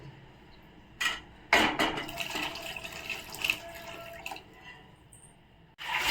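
Water poured into a cooking pot while making Andhra-style rasam, heard as a few close splashing bursts followed by a steady, moderately loud trickling pour that stops abruptly near the end.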